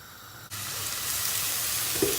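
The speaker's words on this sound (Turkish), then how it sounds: "Patlıcanları da içinde hafiften kızartacağız." Steady, loud sizzling of eggplant frying in a pan, starting abruptly after a brief quieter moment, with a faint clink near the end.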